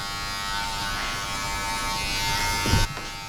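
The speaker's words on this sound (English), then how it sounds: "Alright, now I'm gonna halfway close my clipper." An electric hair clipper buzzes steadily and close during a design fade haircut, a continuous hum that swells slightly before a short clatter and a sudden cut-off near the end.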